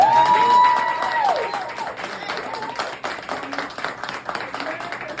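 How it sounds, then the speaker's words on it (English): Audience clapping and some cheering at a jazz orchestra talent showcase, loud at first and then a steady wash, with a tonal ringing sound at the start and a little crowd murmur mixed in. "Another round of applause"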